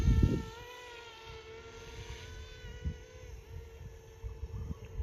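A FlishRC AS350 450-class RC helicopter hovers and flies in wind, its steady high-pitched motor and rotor whine holding constant with faint wind buffeting and a short thump at the start.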